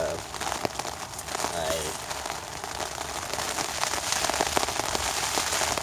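Steady rain patters on a tent while camp is packed up on a stormy morning near Astoria, Oregon, with crinkling tent fabric and scattered drips throughout.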